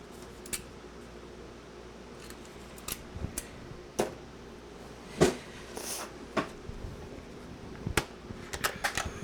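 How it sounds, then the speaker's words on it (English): A corner rounder punch chomps through paper corners for a pocket-envelope scrapbook album, giving a series of sharp, separate clicks and crunches spread unevenly across a quiet, close-up tabletop. "I'm gonna go ahead and chomp the corners."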